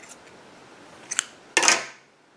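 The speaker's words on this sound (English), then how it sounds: "take the previous yarn and cut that" Scissors cutting crochet yarn: two quick snips close by, a small click followed by a sharper, louder cut, set against a quiet room.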